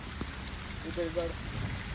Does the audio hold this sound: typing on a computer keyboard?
no